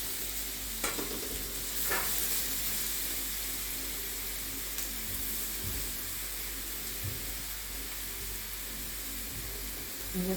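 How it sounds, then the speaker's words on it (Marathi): Cumin seeds and squeezed, grated radish hit hot oil in a pan, giving a steady, dense sizzle with faint stirring scrapes throughout. "तेल गरम झालेलं आहे त्याच्यात जिरे टाकते आणि हा पिळलेला आहे मुळा तो त्याला घालून घेऊया"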